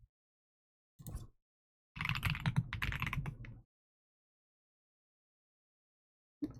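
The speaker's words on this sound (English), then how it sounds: "Oh my god, my new keyboard sounds so nice" A new computer keyboard clicks close up in a quiet room, with a short burst of keystrokes followed by a denser run of rapid typing lasting about two seconds, then silence.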